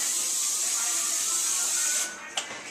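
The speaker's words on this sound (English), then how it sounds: "So I'm gonna spray it again." Olive oil cooking spray hisses from a can in a steady, close spray for about two seconds, then stops, followed by a short click.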